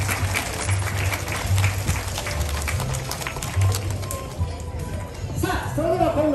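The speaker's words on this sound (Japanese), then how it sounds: "高いジャンプを飛ぶ前に大きな拍手をお願いします" A dolphin show crowd at an aquarium gives applause before a high jump, a broad, steady wash of clapping and crowd noise with chatter mixed in, while a low rumble runs underneath throughout.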